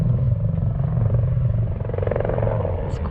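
A helicopter flies over Dakar rally cars, giving a fairly loud, steady, low rumbling drone with a rapid pulsing beat throughout.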